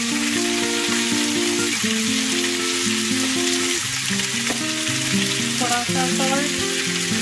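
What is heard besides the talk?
vegetables and chicken sautéing on high flame for sizzler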